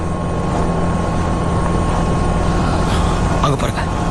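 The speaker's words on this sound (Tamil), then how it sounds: "இது ஹெலிகாப்டர் சத்தம்." A helicopter flies overhead, a continuous throbbing rotor drone with a steady hum, loud throughout while people speak over it.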